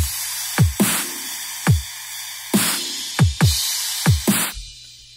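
Punchy sampled drums from Native Instruments' Abbey Road Modern Drums play a sparse pattern: deep kick thumps alternating with crisp snare hits, each ringing briefly, clean and close with no other sounds.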